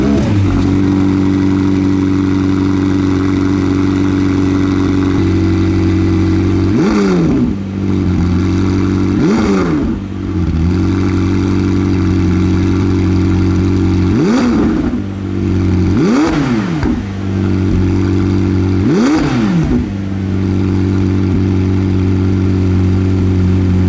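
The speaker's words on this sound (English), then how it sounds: "We can now hear 765LT's sports exhaust in both normal and sport modes" A 2021 McLaren 765LT with its sports exhaust idles with a steady low rumble, then revs sharply in five or six quick blips that rise and fall, loud and close, with no talking.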